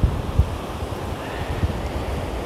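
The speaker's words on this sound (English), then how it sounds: "It's pretty windy today." Steady blustery wind roars across the microphone on a beach at Ogmore, South Wales, with low buffeting thumps and a wash of surf-like noise throughout.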